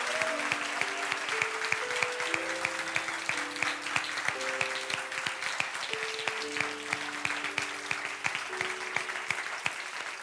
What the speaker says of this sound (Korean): 자, 우리 들어가실 때까지 큰 박수로 하겠습니다.